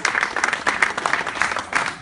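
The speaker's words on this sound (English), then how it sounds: "A big applause for Mr. Murike, all the way from Lake Manyara." Applause from a Maasai gathering greeting a guest being introduced, a dense, steady round of crowd clapping heard close and fairly loud, with faint voices underneath.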